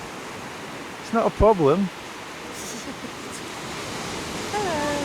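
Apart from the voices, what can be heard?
ocean waves at Kennack Sands beach, Cornwall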